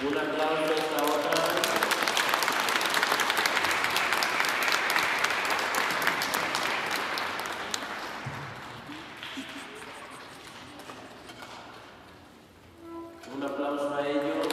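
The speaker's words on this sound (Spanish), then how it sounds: "Un aplauso a esta otra." Applause from the congregation at a wedding mass, loud sustained clapping from a crowd that swells early and gradually fades, with a voice speaking over the start and end.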